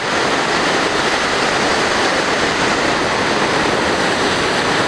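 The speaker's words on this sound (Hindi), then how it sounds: "पानी का प्रेशर बहुत ही तेज है।" Water rushing hard under strong pressure near the Manikaran Gurudwara, a loud, dense, unbroken roar that stays steady throughout, close by and with no voices.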